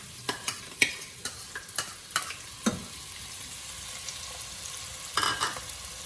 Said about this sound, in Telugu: సో ఆయిల్ వేడైంది అండ్ ఆనియన్స్ యాడ్ చేసేసుకున్నాము.